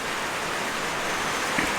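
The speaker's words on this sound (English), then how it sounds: "Rainy day here on the Green Acres Ranch" Steady rain falls at a ranch beside a small covered rooster pen, a continuous even hiss of drops close by with no other sound standing out.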